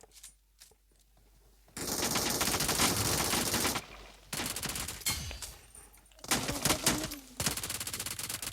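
Rapid automatic P90 submachine gun bursts crackle in a video game, several loud sustained volleys separated by short pauses.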